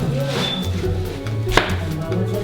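A knife chops onion on a cutting board in a home kitchen, producing a quick run of close, crisp knocks with a steady low hum behind them and no talk.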